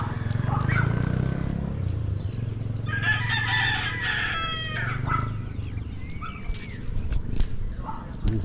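Free-roaming farm chickens with a rooster crowing loudly in the middle, surrounded by scattered clucks and bird calls over a steady low outdoor rumble.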